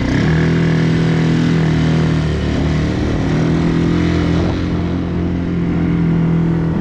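The engine of a restored quad ATV runs continuously while it warms up, a loud, close, steady drone with a slight change in pitch partway through and no talking.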